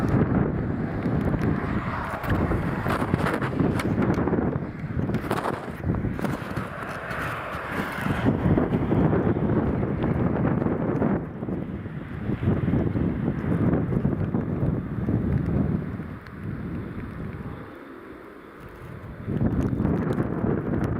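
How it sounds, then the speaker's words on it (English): Strong gusting wind during Storm Lilian at Newcastle Airport buffets the microphone in a continuous loud roar, rising and easing in waves with a brief lull near the end, and no voices are heard. "the wind isn't even that strong compared to what's forecast"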